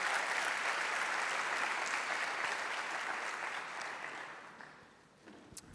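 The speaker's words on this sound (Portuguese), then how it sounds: "Dê mais um aplauso para Jesus" A church congregation at a youth worship service gives sustained applause, a dense roar of clapping that holds steady before thinning out and fading near the end.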